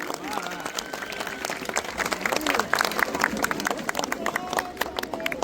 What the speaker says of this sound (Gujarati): અંગારા રાસને આપણે ફરી એકવાર જોરદાર બધી દીકરીને તાળીઓથી વધાવી